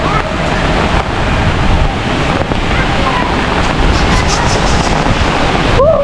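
Strong wind blowing hard during a rainy, cloudy day, a loud continuous broadband roar buffeting the microphone with gusty swells throughout, a brief whistling squeal near the end.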